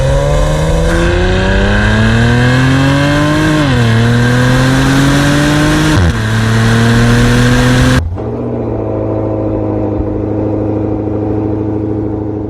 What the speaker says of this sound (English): how awesomely these engines are built and how exciting this exhaust is